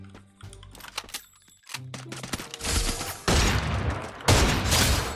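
Gunfire from the Free Fire mobile shooter game, with scattered shots and clicks at first, then dense sustained bursts of rapid firing that grow loud and continuous.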